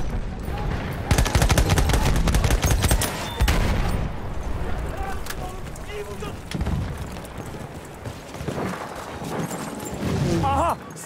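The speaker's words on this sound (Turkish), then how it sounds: "Makine tüfek!" Rapid machine gun fire in the World War I shooter Battlefield 1, loud and close in sustained bursts with more scattered shots around it, while voices shout in Turkish over the gunfire.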